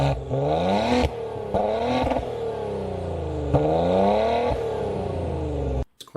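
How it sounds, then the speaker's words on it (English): Maserati Ghibli SQ4 GranLusso engine, Ferrari-built, revved several times in sport mode, each blip rising and falling in a loud, close, throaty sweep before cutting off abruptly. "let me start it up in sport mode and rev the engine a little bit so you can hear what that sounds like"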